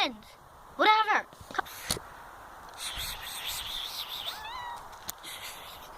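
A house cat gives a loud, wavering meow near the start, followed later by softer, higher chirping meows, with a person talking quietly in the background.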